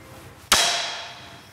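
A single hard hammer blow hits super-strong glass up close. It gives a sharp crack and a bright ringing tail that fades gradually, and the glass stays intact.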